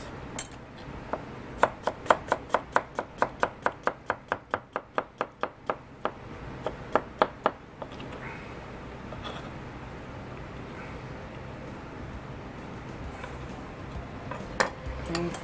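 Potato salad is stirred together with yuzu mayonnaise, a utensil clicking against the bowl in a quick, regular run of sharp taps, then settling into a softer, continuous mushy scraping.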